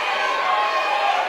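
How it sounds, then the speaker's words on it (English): Crowd at a women's charity boxing bout, Belles of the Brawl XII for Haymakers for Hope, keeps up a steady, dense roar of cheering and shouting for the whole stretch, loud and continuous with no break. "The crowd is definitely electric."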